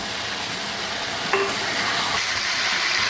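Chicken pieces go into a pan of sauce and are stir-fried, giving a steady close sizzle with one brief clink of a utensil partway through.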